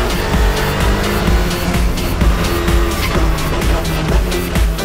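A race car laps Sonoma Raceway at qualifying pace, its engine droning loudly and steadily as the tires squeal and skid through the corners, with no speech over it.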